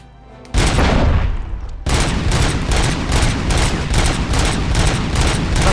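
Gunfire from the video game RoboCop: Rogue City, a rapid sustained burst followed by a brief break and then regular repeated bursts of loud, close automatic shots.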